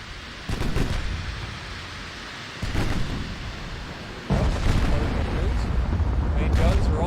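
Heavy naval gunfire from warship main guns and 8-inch secondary batteries in the Ultimate Admiral naval combat game: three deep booming salvos rumble in succession, each followed by a sustained roar, with a voice talking over the battle.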